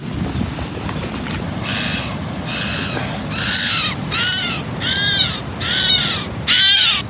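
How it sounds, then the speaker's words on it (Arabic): A caged starling gives a series of repeated harsh, raspy calls, about six bursts in a steady rhythm, loud and close over a low background rumble. "طائر الزرزور"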